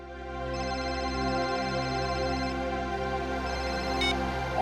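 A phone ringtone plays loudly and continuously as a sustained tonal melody with layered harmonic notes, heard alone without talk.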